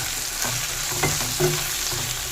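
Coriander powder and salt are stirred in a hot pan for an okra curry, a soft continuous sizzle broken by a few light scraping strokes of the spoon, close and quiet with no talking.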